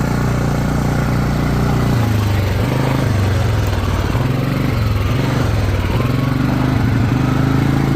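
A 2010 Polaris 400 AWD ATV needing a carburetor runs nearby, its engine droning and surging in uneven pulses as the throttle changes, loud and steady throughout.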